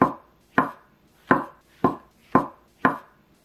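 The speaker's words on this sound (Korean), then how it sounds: "표고버섯은 먹기 좋은 크기로 썰어주세요." A knife chops shiitake mushrooms into bite-size pieces on a cutting board, six crisp, evenly spaced strikes about half a second apart, close and clear with no talking.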